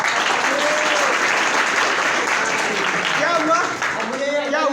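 An audience claps steadily at a product demonstration held for school and college groups. The dense, even applause fills the room throughout, and a voice starts talking over it near the end.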